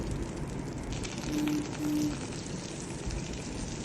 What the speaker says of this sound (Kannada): ಕರಿಬೇವಿನ ಸೊಪ್ಪು ಹಾಕ್ಕೊಂಡು ಚಟ್ಪಟ್ ಅಂದಾಗ ಕರಿಬೇವಿನ ಸೊಪ್ಪು ಹಾಕಿ